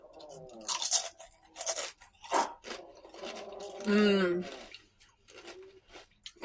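A person bites and chews chips with homemade dip at close range, several sharp crunches in an irregular rhythm with wet chewing and mouth sounds between them and no talk.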